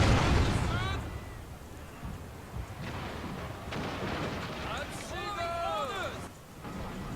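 Cannon broadsides from wooden warships in the naval battles of Shogun 2: Fall of the Samurai, heavy booming volleys rolling under shouting voices and battle noise, with a loud burst at the start and more scattered thuds later.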